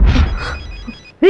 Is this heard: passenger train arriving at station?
no